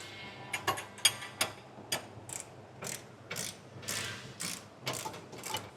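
Socket ratchet tightening 24 mm cross member bolts on a B&W Companion sliding fifth wheel hitch in a 2024 Chevrolet: quick close clicking strokes in short irregular bursts, fairly quiet.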